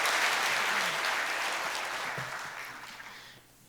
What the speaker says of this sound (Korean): 그 마음을 담아서 우리 박수, 감사의 박수 한번 더 쳐드렸으면 좋겠습니다